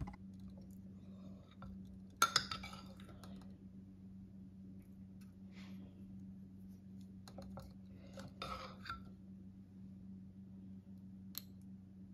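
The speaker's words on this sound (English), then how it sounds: "After stirring down the starter, I add 50 grams to the jar." A spoon clinks and taps against a jar while sourdough starter is spooned in, a few sharp close clatters in short bursts over a steady low hum, otherwise quiet.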